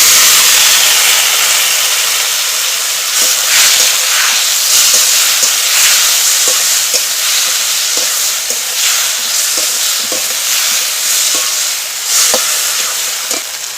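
Water added to spices frying in a pan for Bengali sukto sets off a loud, steady hiss of steam and sizzle, broken by repeated stirring scrapes and clinks. No voices.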